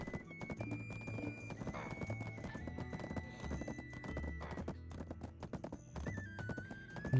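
Horse hooves clip-clopping in a video game, a steady rapid rhythm of close hoofbeats with occasional whinnies, set against soft in-game music tones.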